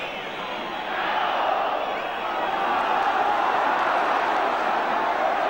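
A big stadium crowd at a 1982 English First Division football match roars without a break through the closing minutes, a dense, far-off wash of cheering and chanting that holds steady the whole time.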